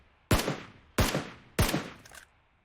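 Three sharp gunshots ring out in PUBG Mobile, evenly spaced about two-thirds of a second apart, each a loud crack followed by a short echoing tail.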